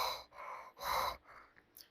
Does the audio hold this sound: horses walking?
no